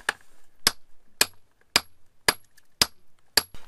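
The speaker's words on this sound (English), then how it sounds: "now a few more hammers on this chisel here, and it should just pop it right out" A hammer strikes a chisel driven into a rock to pop out a piece of BC ocean picture stone: six sharp, evenly spaced metallic blows, close and crisp, with quiet gaps between.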